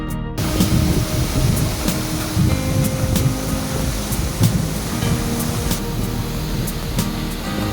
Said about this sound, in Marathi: यापैकीच एक म्हणजे मुंबई गोवा महामार्गावरील चिपळूण नजीकचा सवत्सडा धबधबा